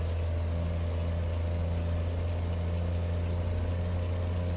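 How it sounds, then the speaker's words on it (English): A truck engine drones steadily in American Truck Simulator, a loud, unbroken low hum with a constant tonal rumble and no talking. "The engine is a little bit loud here on my headset"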